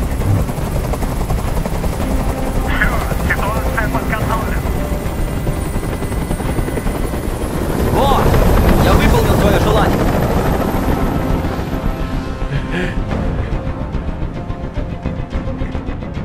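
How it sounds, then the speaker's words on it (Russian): A helicopter hovers in the video game Detroit: Become Human, its rotor drone steady throughout and swelling louder midway, heard beneath raised voices of characters talking. "Как же меня бесит этот звук! Прикажи им, чтобы вертолет убрался!"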